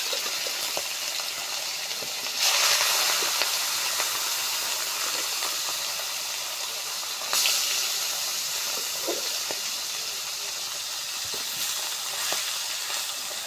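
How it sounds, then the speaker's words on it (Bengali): Fish frying in hot mustard oil in a wok gives a steady, loud hiss, with sharper bursts of crackle as more pieces go in, and faint clicks scattered through. "সুন্দর করে মাছটা আমরা ভাজে নেব"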